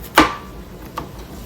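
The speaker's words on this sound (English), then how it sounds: "and chop into pieces. This is 2 medium stalks." A knife chopping two medium celery stalks into pieces on a cutting board, with one loud close chop followed by a second softer cut about a second later.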